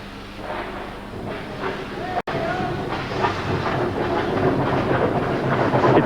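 The vintage 'coffee pot' train of the Pichi Richi Railway in the Australian outback, running with a steady rumble and rhythmic clatter, one sharp dropout partway through, and someone narrating over it.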